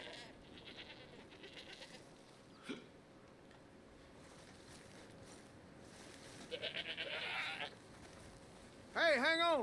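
Alpine goats bleat in Red Dead Redemption 2, a faint distant bleat early on followed by a louder wavering cry near the end, over soft rain-like ambience with someone talking.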